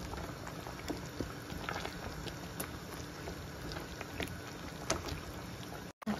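A pot of bamia (okra) stew with meat boiling steadily, a continuous bubbling, churning patter held close and even for several seconds, briefly cut near the end.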